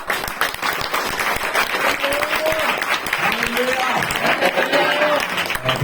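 A church congregation at a Sunday fellowship applauds loudly, dense sustained clapping from many hands over several seconds, with a few voices calling out beneath it.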